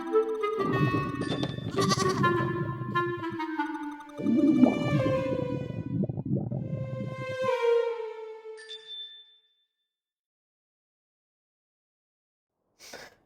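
Goat bleat sound effect played on a livestream: a loud, close, wavering bleat in two long bursts lasting several seconds, trailing off, followed by near silence and a brief faint ding at the end.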